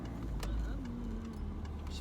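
Car engine rising in pitch as a learner driver accelerates during a driving lesson, a low rumble heard from inside the cabin, steady and moderately loud with faint clicks.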